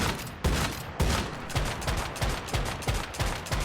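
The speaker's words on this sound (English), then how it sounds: "look what happens when I shoot the dummy" Gunfire hits a training dummy in the video game Once Human, a rapid burst of sharp, punchy shots repeating at an even pace for several seconds, loud and close with no talk.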